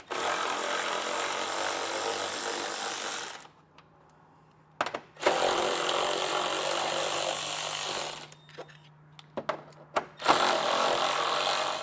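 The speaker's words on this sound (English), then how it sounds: "We also have 4 10mm screws across the top, so we'll get those taken out as well." A power driver removing four 10mm screws on a 2024 Ford Maverick, loud whirring bursts broken by short pauses and small metallic clicks, close up.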